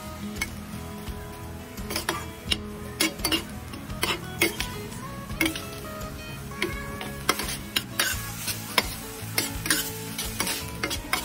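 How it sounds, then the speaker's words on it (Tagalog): Ground beef with oyster sauce sautés in a pan, steady sizzling punctuated by frequent rhythmic clacks and scrapes of a spatula stirring the meat. "Ayan, gisa-gisa pa at lutuin pa natin siguro ng mga ilang minutes."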